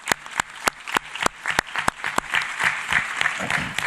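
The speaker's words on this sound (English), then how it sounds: "Can we have a round of applause for Claudia and her team?" An audience at the Hispanic Leadership Summit applauds Claudia and her team, starting with a few sharp, separate claps that quickly thicken into a steady, fairly close round of clapping.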